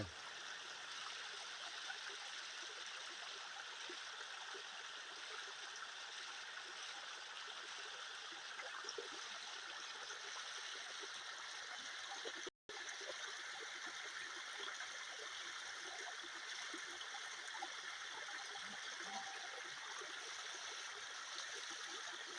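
Waterfall stream from Mon Hin Ngam at Ban Sa Phae, Chae Hom, Lampang, pouring through dense forest as a constant, even rush of flowing water, close and unbroken apart from one split-second dropout, with no voices.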